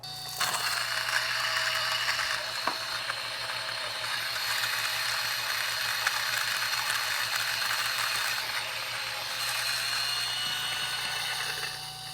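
A Varia VS3 coffee grinder works through 23 g of beans at grind setting 3.5, giving a loud, continuous whirring mechanical drone that holds steady for the whole stretch, close and with no talk.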